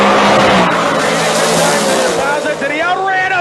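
A Cummins diesel Nova and a nitrous car launch in a drag race, with a loud, dense engine roar and tire noise from close by. An announcer's voice talks over the engines throughout.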